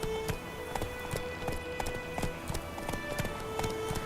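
Geralt's horse Roach in The Witcher 3 trotting, with steady rhythmic clip-clop hoofbeats at a moderate pace, close and clear over a faint ambient game background.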